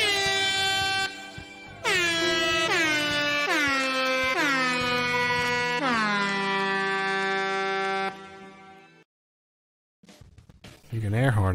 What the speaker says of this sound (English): You can air horn all you want